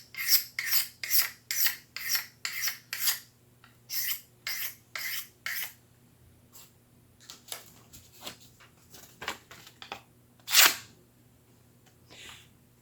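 Knife edge sharpened on a Work Sharp field sharpener: a run of about a dozen quick, evenly paced rasping strokes, then sparser, quieter passes and one louder sharp scrape near the end, close and alone.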